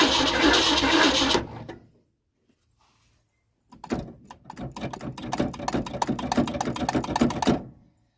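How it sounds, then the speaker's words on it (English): A fuel pump on an old Ford Mustang, long abandoned and leaking, clicks rapidly in a rhythmic mechanical ticking after a noisy burst and a pause, then stops. "Maybe that fuel pump will work."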